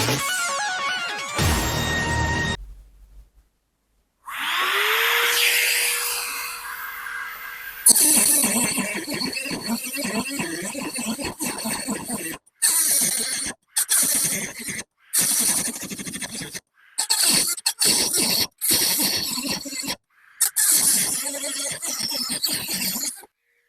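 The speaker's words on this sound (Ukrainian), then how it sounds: "І подивимось, за скільки мікринекс 201N переріже болта." A Micro-Nx 201N manicure drill cuts through a steel bolt: a high whine rises as the bit spins up, then harsh grinding comes in repeated bursts separated by short pauses, loud and close.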